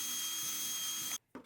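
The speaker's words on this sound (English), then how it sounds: "I then drill a hole in the lower part of the planter where the power cord will go." A power drill bores a hole through the lower part of a planter, producing a steady, loud whirring grind that runs continuously for just over a second, then cuts off abruptly, followed by a brief faint bump.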